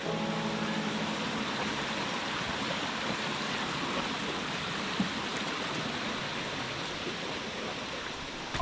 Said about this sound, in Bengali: আমাদের ঝর্ণা দেখা যাচ্ছে এটা সম্ভবত বাগবিয়ানি ঝর্ণা